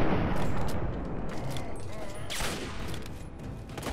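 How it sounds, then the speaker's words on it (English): Gunfire in Fallout 3 breaks out in bursts of sharp cracks and booms over a dense, noisy battle bed, loud and close. "Who else is shooting at me?"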